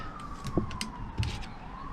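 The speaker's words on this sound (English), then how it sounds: "Hear that siren?" A faint siren wails in the distance, its tone slowly sliding, under a steady outdoor hum with a few soft knocks, near a 5hp Briggs and Stratton engine.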